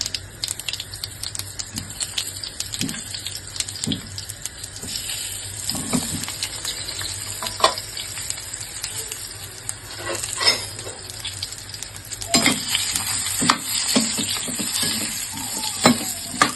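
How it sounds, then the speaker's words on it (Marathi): Spice-stuffed eggplants frying in hot oil with cumin and turmeric, a continuous close sizzle broken by repeated scraping and stirring clatter against the pan. "तर ही सर्व वांगी तेलामध्ये व्यवस्थित परतून घ्यायची आहे"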